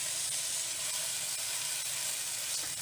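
Mushroom and eggplant fry in a hot pan, a steady, close, even sizzle with a bright hiss that holds without pause.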